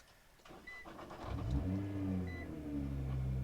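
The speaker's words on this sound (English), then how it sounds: "We'll climb on in, fire it up, push the brake." A 2009 Nissan GT-R R35 engine fires up with a short crank and a rising rev, then drops into a steady, deep idle heard from inside the car.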